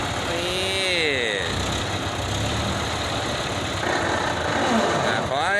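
A motor grader grading soil, its engine running steadily at a moderate distance with a continuous rumbling drone, while someone speaks excitedly over the engine noise.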